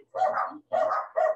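A dog barks nearby in the background of an indoor lesson, giving three loud, separate barks about half a second apart with brief pauses between them.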